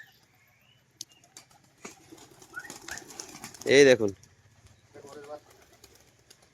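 Pigeons feeding give soft scattered coos and rustles, then a sudden loud burst of wing flapping close by, followed by quieter fluttering; someone speaks briefly.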